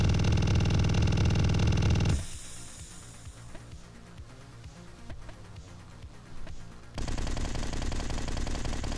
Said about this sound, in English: I think I'm gonna stick with the machine gun.